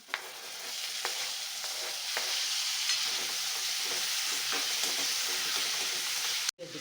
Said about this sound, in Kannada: ಈರುಳ್ಳಿ ಸ್ವಲ್ಪ ಕೆಂಬಣ್ಣಕ್ಕೆ ಬಂದಿದೆ ನಾನೀಗ ಹಣ್ಣು ಹಾಕ್ತಾಯಿದ್ದೀನಿ